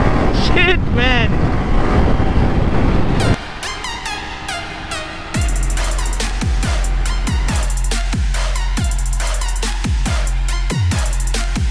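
Modified Suzuki GSX-R15 motorcycle with an aftermarket exhaust, revving hard at a riders' meet-up; loud rising engine whine, wind rush, then a rapid series of sharp revs and pops close by.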